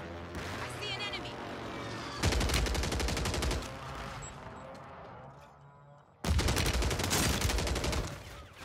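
Draco pistol gunfire in Warzone on Rebirth Island: two long, loud bursts of rapid automatic fire separated by a pause filled with game noise, with a voice talking at the start.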